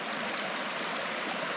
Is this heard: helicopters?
no